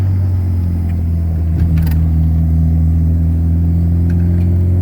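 A Honda Civic engine pulls hard in a second-gear roll-on, a loud, close, continuous low drone that holds steady for the whole stretch, with a few faint rattles above it.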